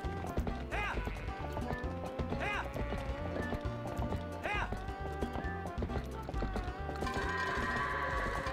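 Horse hooves clip-clop at a steady run amid game music in The Legend of Zelda: Twilight Princess HD during goat herding, with occasional whinnies over a continuous musical bed.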